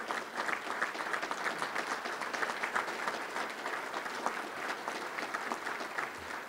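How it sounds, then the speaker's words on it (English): Sustained applause from a seated crowd at a Little Rock Touchdown Club luncheon, dense, even clapping holding steady for several seconds with no voices over it. "Let's give them a round of applause."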